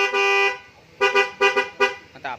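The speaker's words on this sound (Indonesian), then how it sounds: "Kita tes klaksonnya." A Denso car horn is tested, first with one long blast and then a run of short, sharp honks, loud and near, with no talk.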